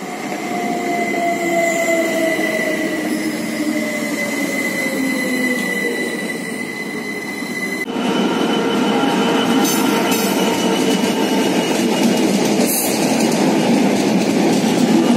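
A Heathrow Express passenger train rumbles past close by in London, wheels clattering and squealing faintly on the rails, the sound steady and loud throughout with no voices.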